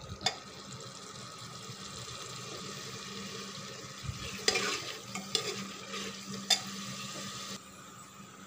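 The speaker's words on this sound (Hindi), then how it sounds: "मैं इसे हल्का सा भून लूँगी" Pressure-cooked chana being stir-fried dry in a pan, soft steady sizzling with scraping stirs and a few sharp clinks of the spoon against the pan, close by with no talking.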